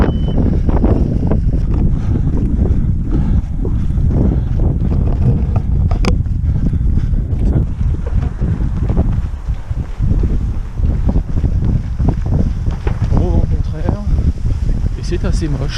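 Strong wind buffeting a microphone outdoors during a 52 km trail race in Madrid, loud continuous low rumble and gusting roar throughout, with a runner's voice speaking over it at times.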